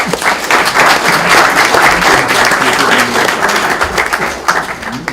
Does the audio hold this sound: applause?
yes